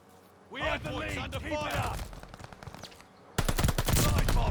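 Gunfire from a strafing run in a ranked video game match bursts in suddenly near the end as a loud, rapid, dense volley, after a stretch of someone talking over quieter game sound.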